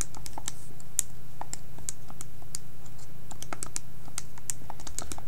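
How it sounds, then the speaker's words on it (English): Calculator keys are pressed in a quick, uneven string of sharp little clicks over a low steady hum, close and fairly quiet, with no voices. "if I were to type this on a calculator"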